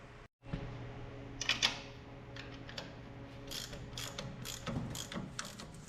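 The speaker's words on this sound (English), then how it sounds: "now we just tighten up the alternator and we're good to go" Ratchet clicking as the alternator is tightened on an IH Farmall 544 tractor, with short bursts of quick metallic clicks over a steady low hum, fairly close.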